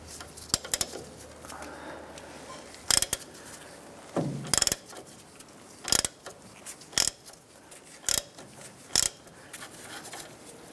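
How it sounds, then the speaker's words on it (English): Wrench work loosens the nut on the pitman arm of a 1994-2004 Chevrolet S10 steering linkage, with about eight sharp metallic ratchet clicks and clunks spaced a second or so apart against a low hum. "we want to remove the nut right here off of our pitman arm"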